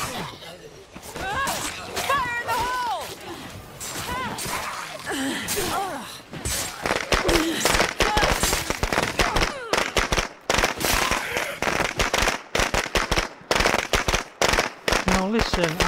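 An explosive detonating in the zombie-survival video game State of Decay 2, followed by a long run of sharp crackling bursts like rapid gunfire, loud and close, with voices talking over it.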